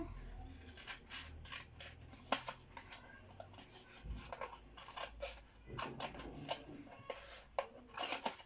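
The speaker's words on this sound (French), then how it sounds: "Donc on coupe, on coupe, on coupe." Scissors snip through paper for a mini album, quick repeated cuts in uneven bursts with short pauses and soft paper rustling between them, close and fairly quiet.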